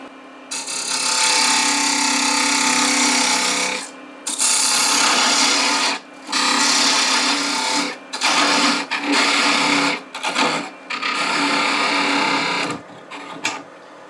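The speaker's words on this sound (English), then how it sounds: "Parting tool is typically used for parting off smaller pieces of wood" A parting tool cuts into a small piece of wood spinning on a lathe, giving a loud, steady scraping whir in long sustained passes broken by brief pauses.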